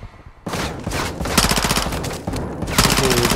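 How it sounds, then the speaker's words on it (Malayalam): Gunfire in the video game Modern Warfare 2 (2022), rapid automatic bursts cracking loudly in quick succession, almost continuous, with brief gaps between volleys. "നമ്മൾ വെടി വെച്ചുകൊണ്ടിരിക്കുകയാണ്"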